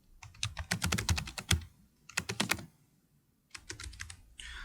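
Computer keyboard typing in bursts of quick keystrokes while entering a form name in accounting software, with a pause before a final short run of keys; close and alone with no talking.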